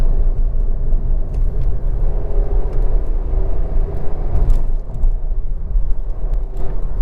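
A Skoda Kushaq car engine pulls under throttle, heard from inside as a loud, continuous low rumble with road noise that stays steady throughout, with no one speaking.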